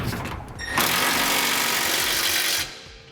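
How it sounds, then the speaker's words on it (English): A 3/4 inch socket snugs up the 1/2 inch bolts and nuts on a Curt trailer hitch receiver on a 2018 Ram 1500, a steady, loud whirring mechanical run of about two seconds that starts and stops abruptly. "I'm going to come back with a 3/4 inch socket and snug them all up"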